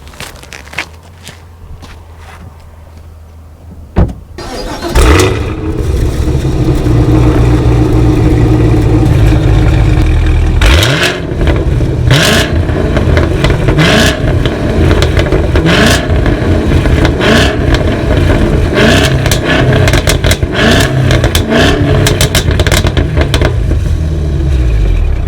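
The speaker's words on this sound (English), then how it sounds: "Let me start it up and see what it sounds like." A Cadillac CT5-V Blackwing with variable exhaust cranks and fires into a loud, crackling roar, then holds a steady rumble punctuated by sharp revs, heard close by with no talking.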